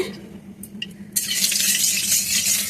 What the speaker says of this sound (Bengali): কড়াইতে তেল দিয়ে দিলাম।